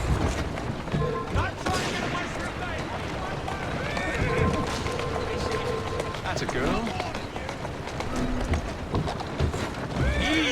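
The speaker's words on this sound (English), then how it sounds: "Who's a good horse?" Horse hooves clip-clopping at a run with an occasional neigh in Assassin's Creed Syndicate, set in Victorian London, under steady game ambience while a rider talks soothingly to the horse.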